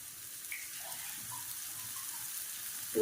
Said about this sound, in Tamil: பொரிஞ்சதுக்கப்புறம் இதில் நான் புளித்தண்ணி ஊற்றிக்கிறேன்.